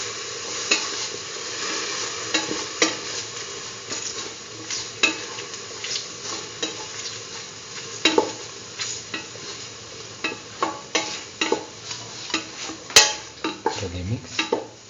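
A curried egg and mung bean stew is stirred in a pan, with a steady sizzle of frying under repeated scraping and clinking of a utensil against the pan.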